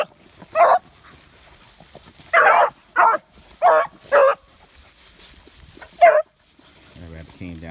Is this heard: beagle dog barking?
yes